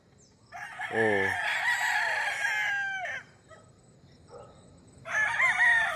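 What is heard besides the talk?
chickens and roosters crowing on a chicken farm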